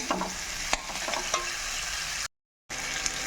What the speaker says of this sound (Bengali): ভেজে রাখা আলু আলুর সাথে মশলা ভালো করে এখন মিশিয়ে নেব